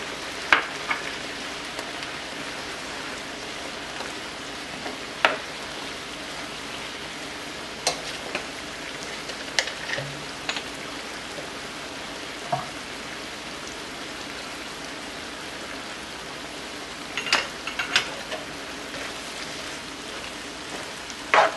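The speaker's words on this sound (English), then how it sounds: "You can add the cooking wine." Cuban ropa vieja sizzling steadily in a pan after cooking wine is added, a continuous rain-like frying hiss with scattered sharp crackles and pops, close and moderately loud, no talking.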